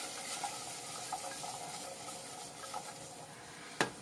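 Sweet potato pieces fry quietly in oil in a frying pan, giving a soft, steady sizzle with small scattered pops and a sharp clink near the end.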